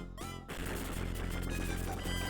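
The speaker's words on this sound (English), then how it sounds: "That's Diane's new attack, by the way. It just looks like a bunch of explosions." A burst of crackling explosion effects for an attack animation in the retro game Shining Force, dense and continuous after a short sweeping lead-in.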